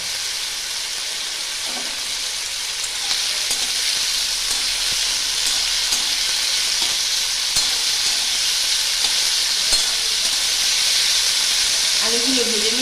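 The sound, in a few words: potatoes frying with turmeric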